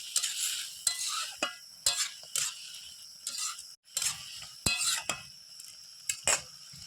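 Mustard paste is stirred into a dish of fish curry in a pan, with a soft sizzle broken by repeated scraping and clinking of a spatula against metal, close and fairly quiet.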